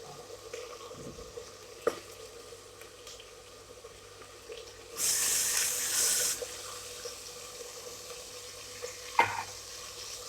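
Water poured into mutton frying in a pan, a brief hissing burst of sizzle partway through over quiet kitchen background, with a few clinks of utensils before and after.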